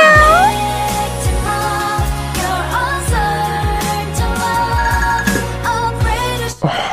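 A cat meows repeatedly and insistently, several close, loud, tonal yowls in a row, with a few sharp bumps in between.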